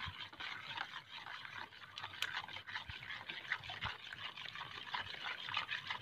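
Soapy water stirred in a container while mixing a homemade pesticide, a soft continuous sloshing and trickling that stays faint and steady throughout.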